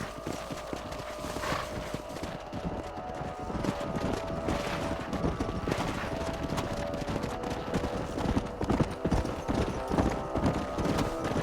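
Horses' hooves clip-clop steadily on hard ground in the Red Dead Redemption video game, a continuous close rhythm of several animals moving together with a dense, busy background.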